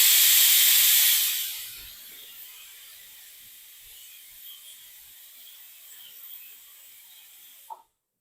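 A pressure cooker on a low gas flame vents steam in a loud, bright hissing whistle for the first second or so, then fades to a faint, steady hiss that ends abruptly.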